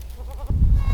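A goat on a farm with young kids gives a short, wavering bleat nearby, followed by a louder low rustling and thumping close to the microphone.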